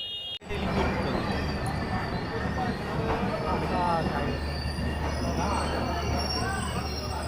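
Train carriages rumble steadily along the tracks, with high metallic wheel squeals drifting over the noise; a brief muffled knock opens the clip.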